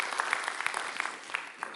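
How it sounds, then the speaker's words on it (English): A church congregation applauds, a short patch of dense, fairly faint clapping from a crowd at a distance, with no speech over it. "Come on, you can applaud that."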